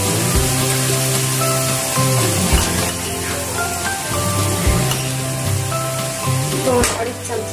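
Homemade black masala spices sizzle loudly and continuously in a hot pan for a village-style chicken dish, a close, bright frying hiss with intermittent stirring scrapes.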